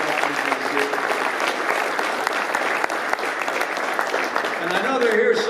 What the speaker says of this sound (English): Let's give a round of applause to Congressman Dave Joyce.